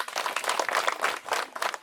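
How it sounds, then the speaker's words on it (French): A crowd claps steadily and densely, a continuous patter of many hands applauding at moderate loudness at a school award ceremony. "Ça s'applaudit, n'est-ce pas?"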